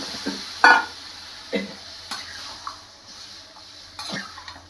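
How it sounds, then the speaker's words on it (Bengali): Boiled peas being stirred into a cooked-down spice masala in a pan, with a few soft scrapes and knocks of a spoon over a faint simmer. "মশলা ভালো করে কষে গেছে, এবার সেদ্ধ করা মটরটা দিয়ে দেবো।"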